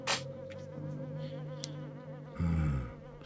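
Sting bees in the video game Oddworld: Stranger's Wrath give off a steady insect-like buzzing, with a louder surge near the end over game music and effects.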